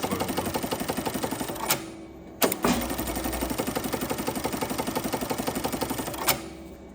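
A JACK JK-T1900 electronic lockstitch industrial bar tacker sews at a reduced speed setting of 700, giving a steady, even mechanical clatter of stitches with a few louder knocks and clunks.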